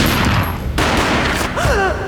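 Gunfire from the Max Payne video game: a dense burst of loud shots over a rumbling game soundscape, with a short warbling effect toward the end and no talk.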